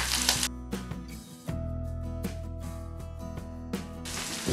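Fenugreek seeds, sliced shallots and curry leaves hitting hot oil for a Kerala mango pulissery, a soft crackling sizzle with a few sharp bursts of spitting, fairly quiet and close, no voices.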